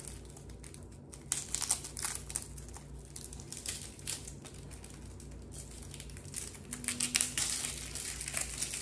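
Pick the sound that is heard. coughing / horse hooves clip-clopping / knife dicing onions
knife dicing onions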